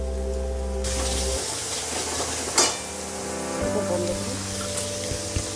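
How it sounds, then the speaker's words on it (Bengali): Spice paste sizzles and fries in a pan for a Bengali ol (elephant foot yam) dhoka curry, a steady close hiss with occasional stirring scrapes and a low mechanical hum starting and stopping underneath. "মশলাটা এভাবে ভালোভাবে ভেজে নিতে হবে।"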